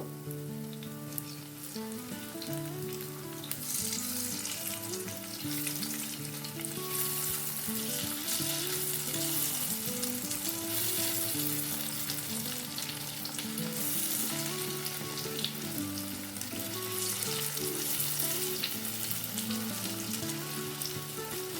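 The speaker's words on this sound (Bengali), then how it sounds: "উল্টো পিঠটা ঠিক সেম ভাবেই ভেজে নেব।" Flipped spinach and potato fritters fry in oil in a wok, giving a steady, even crackling sizzle throughout with light stirring, under soft continuous background music.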